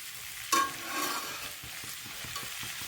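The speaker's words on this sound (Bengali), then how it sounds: "ফ্রাই করে নিই" Spice paste frying in a pan: a sharp clack of a utensil, then a continuous sizzle with regular stirring scrapes, close and moderately loud, with no talking.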